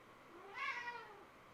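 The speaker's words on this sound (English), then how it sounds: "there's my cat again." A house cat gives a single short, faint meow, rising then falling, over quiet room tone.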